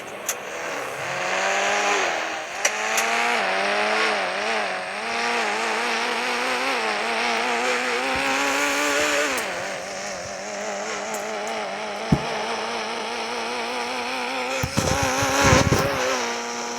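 A McLaren car driven in a video game, its engine droning and rising through steady revs with shifting pitch, continuous and close, punctuated by a couple of sharp knocks and a louder rush near the end.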